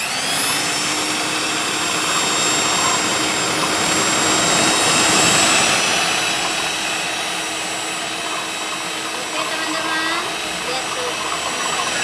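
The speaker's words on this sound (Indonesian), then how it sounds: "Ini mixernya sudah saya colokkan ya teman-teman. Mari kita aduk." An electric hand mixer beats eggs for egg tea with a loud, close, steady whining motor drone that holds evenly throughout.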